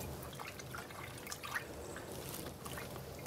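Water running and dripping while the piston ports of a non-autoclavable endoscope are rinsed during manual cleaning, a faint steady trickle with small splashes throughout.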